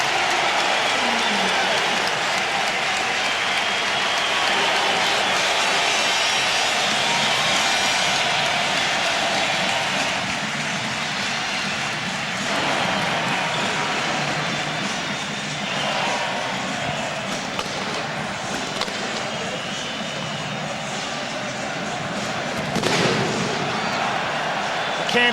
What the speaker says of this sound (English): The crowd, which looks to be the best of the year here in Barcelona, went crazy